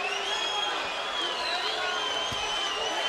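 Boxing arena crowd at the Adamek versus Banks fight roaring in a steady, dense wash of cheering and whoops after a looping right hand, sustained at even loudness throughout.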